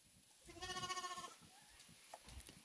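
A single sheep on a farm gives one loud, wavering bleat lasting under a second, with faint background noise and a few soft knocks afterward.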